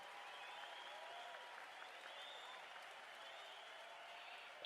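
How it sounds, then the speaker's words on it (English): Steady applause from the dugout at a cricket Test match between West Indies and Sri Lanka, continuous and moderately distant, with no pauses or talking over it. "Applause from the dugout for him."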